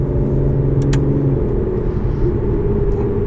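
A 2014 Aston Martin Vanquish being driven, a loud, steady low engine rumble heard from inside the cabin, with a short brighter burst near the start and no voices.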